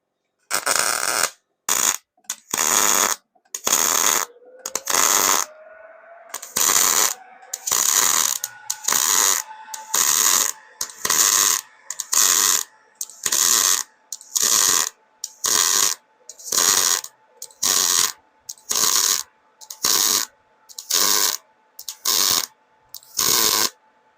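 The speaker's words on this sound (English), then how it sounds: "So we're gonna go back over here and tack weld it a little bit." Tack welding on a steel mailbox fender gives a steady run of about twenty short, loud, crackling bursts, each lasting roughly a second, separated by brief silent gaps, with no talking.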